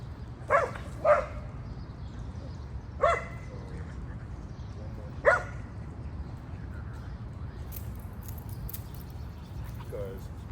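A dog at a group dog-training class gives four short, sharp barks spread over several seconds amid steady outdoor background noise, with a few faint whines toward the end.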